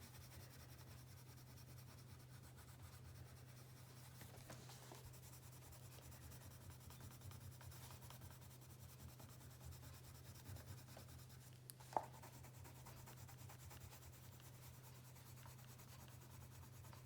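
A colored pencil blends and burnishes over paper with an oatmeal shade, producing a very quiet, continuous rubbing and scratching under a low steady hum, with one brief tap near the end.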